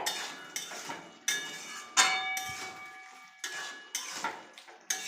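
Katla fish curry with banana is stirred and the pot lifted off the stove: a series of sharp metallic clanks and ringing knocks of utensil on pot, spaced irregularly, close and fairly quiet.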